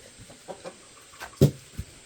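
Chickens on a country farm in Korea being fed leftover food, giving soft scattered clucks and short calls, one louder cluck standing out among faint quieter ones, mostly close and low in level.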